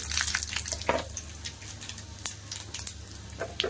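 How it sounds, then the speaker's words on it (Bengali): Bay leaves and panch phoron dropped into hot oil in a pan, crackling and spitting with sharp popping bursts over a steady sizzle, close and fairly loud with no talking. "ফোড়ন দেবো, তেল গরম হয়ে গেছে। 2-3টে তেজপাতা, একটু পাঁচফোড়ন"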